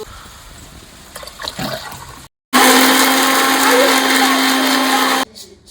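An electric mixer grinder loudly grinds masala of ginger and garlic, starting abruptly after a short pause and running as a steady high whine for about three seconds before cutting off, with softer kitchen noise and faint chatter before and after.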